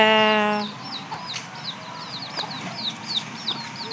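Chicks peep beside their mother hen in a farmyard, a quick run of thin, high chirps repeating close by, following a short sustained tone at the very start.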